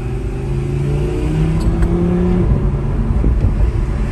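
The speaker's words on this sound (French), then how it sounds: "Là, elle est en mode sport, donc échappement ouvert." A sports car with ceramic brakes idles and revs in sport mode with its exhaust open, a loud, close, continuous deep rumble with slight rises in pitch, no talk over it.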